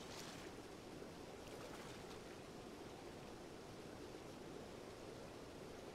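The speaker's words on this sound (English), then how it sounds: "Gonna stand inside of this waterfall." A waterfall in a Zelda video game rushes steadily, a soft, even, hissing wash of falling water heard up close with no talk over it.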